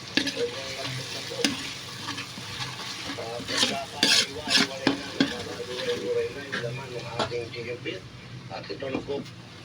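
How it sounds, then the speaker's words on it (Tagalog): Food being stirred in a frying pan over a steady sizzle, with frequent utensil scrapes and clatters close by while a person talks over the cooking. "Ito po, halo na natin."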